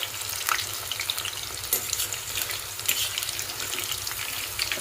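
Pieces of tuna fry in oil, giving a steady, dense sizzle close by with scattered small pops and crackles throughout and no voices.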